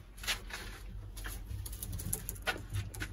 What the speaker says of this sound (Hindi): माशाल्लाह, ये जोड़ा वाला कबूतर लगता है, मादी है